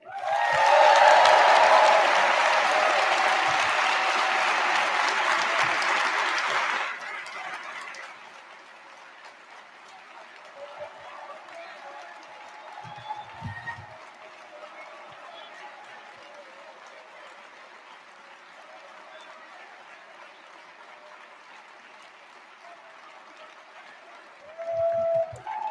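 A conference audience applauds as Jeremy Corbyn is welcomed on stage, loud dense clapping for about seven seconds that cuts off into a quiet room, with faint scattered sounds afterward.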